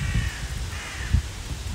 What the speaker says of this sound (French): Là, les corneilles qui crient parce qu'il y a la présence d'un chat.